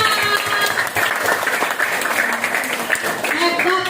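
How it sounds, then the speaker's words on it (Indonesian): Classroom applause from a group of students, steady dense clapping that fills the whole moment, fairly loud and close, with voices mixed into it. "Beri tepuk tangan."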